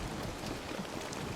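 Heavy rain falling steadily, a dense broadband hiss of downpour with no voices, continuous and even throughout.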